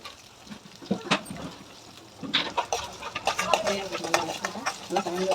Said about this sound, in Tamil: நல்லா கலந்து வதக்கிட்டோம்.